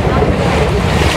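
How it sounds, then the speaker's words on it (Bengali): A boat moving across the sea near Port Blair in the Andaman Islands, with steady loud wind buffeting and water rushing continuously. "যখন এই নৌকায় চলছি তখন হাওয়া দিচ্ছে"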